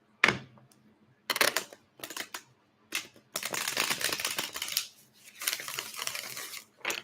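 Tarot cards being shuffled at a table, heard as several bursts of crisp papery riffling and slapping separated by short pauses, fairly close and alone with no talking.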